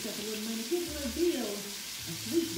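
Potatoes browning in a pan with onions, a steady soft sizzle running underneath a voice, close and continuous with faint stirring.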